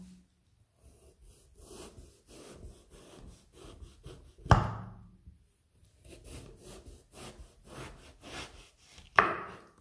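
A kitchen knife cuts eggplant lengthwise into slices on a board, with rhythmic rasping strokes followed by two sharp thuds as the blade hits the board, loud and close, no voices.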